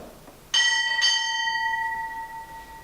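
Two clear strikes of a ship's bell, about half a second apart, mark an arrival at a naval retirement ceremony in San Diego, each loud, close clang ringing on into a long fading tone.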